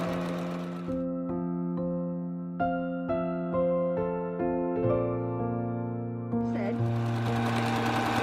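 A sewing machine chain piecing quilt half square triangles, running in several close, loud bursts of rapid needle stitching separated by short pauses.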